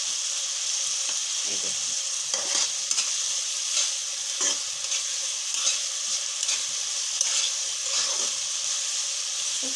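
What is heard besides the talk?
tomatoes and fish masala sautéing in a pan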